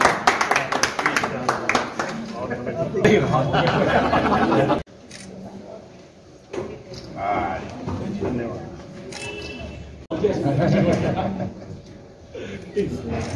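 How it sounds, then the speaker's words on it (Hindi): Audience at an Indian community gathering claps loudly for several seconds; the clapping drops away into murmured chatter and laughter, then rises again in a second burst of applause. "बस तालियों की कंजूसी नहीं रहनी चाहिए।"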